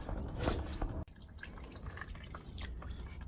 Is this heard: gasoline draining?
yes